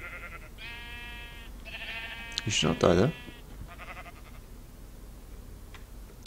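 Sheep in the Minecraft video game bleat in a few short, nasal game-sound calls while someone talks over them, with a brief louder burst of in-game noise midway.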